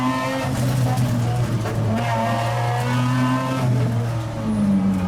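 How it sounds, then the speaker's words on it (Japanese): A naturally aspirated Mazda RX-8 rotary engine, machined to rev to 10,000 rpm, runs at full power during a mountain-pass highway attack, giving a steady, loud, buzzing drone with slight pitch shifts throughout. "エキセントリックシャフトこんなところを加工して1万回転は回るという NA ロータリー"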